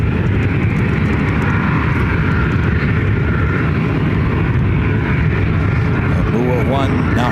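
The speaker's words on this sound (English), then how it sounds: "Next, Amera flight 1935, coming from Imperial. It's a Beach C99 airliner," A 43-year-old Beechcraft C99 airliner on Amera flight 1935 at Ontario, California airport, its engine drone steady and loud throughout, with a rising whine near the end and voices talking over it.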